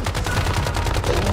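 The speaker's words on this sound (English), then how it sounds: "Let me get that minigun, baby!" A minigun fires nonstop in Once Human, a dense, loud, rapid rattle of shots throughout the brief burst, with no voices.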